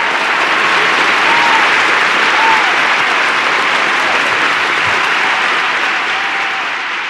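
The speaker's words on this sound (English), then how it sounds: "You want some more applause?" A studio audience at a dating talk show breaks into loud, dense, continuous applause that holds steady and tapers only slightly toward the end.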